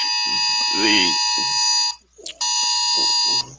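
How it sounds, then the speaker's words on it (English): A phone's Amber Alert blares in loud, harsh buzzing tones, stopping briefly then resuming, with someone talking over it. "Your alarm's going off there. That isn't the flying in, is it? No, that's a Amber Alert."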